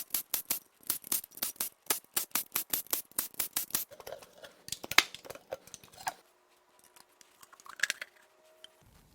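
A ratchet zips rapidly in quick clicking bursts while the oil pan comes off a Mazda Miata 1.8 BP engine, followed by scattered metallic clinks and light handling noises near and fairly quiet, no talking.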